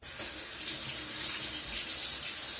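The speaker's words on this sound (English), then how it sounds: "So I better wash my hands." A tap runs steadily into a sink as hands are washed in a kitchen, a continuous close splashing hiss from start to finish.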